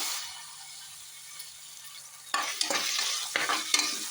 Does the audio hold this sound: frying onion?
yes